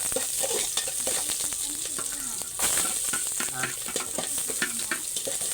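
Onions frying in a pan with garlic and oil, a dense close sizzle with crackling pops and stirring scrapes throughout, steady and fairly loud, with faint voices in the background.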